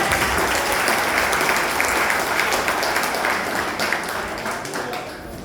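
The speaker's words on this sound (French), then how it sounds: "Applaudissons Jésus-Christ." A church congregation claps together in sustained applause, loud and dense at first and gradually fading toward the end.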